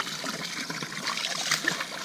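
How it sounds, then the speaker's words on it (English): A garden hose pours fresh water into a murky pond in spring, a continuous close trickle and splash at an even moderate level with small spatters and no talking. "Pumping some fresh extra water in there."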